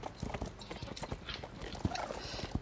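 Horse hooves clip-clopping in the Star Stable Online video game, a run of distinct, fairly quiet hoofbeats in an uneven walking rhythm with a couple of sharper hits near the end.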